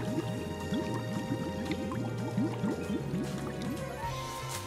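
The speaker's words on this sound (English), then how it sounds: "Now it's that time to dunk our block. Beautiful sandstone block, by the way, brought in from the ancients. Our bowl of water. And sploosh." A sandstone toy block dunked into a bowl of water for a Treasure X toy unboxing, making a steady run of close bubbling, gurgling and squishing sounds that continue throughout, with no talk.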